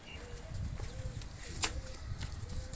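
White pigeons coo softly in repeated low calls over background rustle, with a brief sharp click in the middle and no clear speech.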